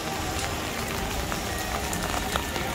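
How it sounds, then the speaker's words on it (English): Steady rain from Hurricane Hilary pattering on a surface at Disneyland, a constant hiss with scattered drops, no voices. "get out of the rain. It's getting worse, at least a little bit worse."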